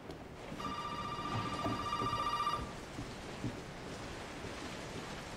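A telephone in Resident Evil 7 rings with a bright, steady tone for about two seconds, then stops, leaving a bed of rain-like ambient noise underneath.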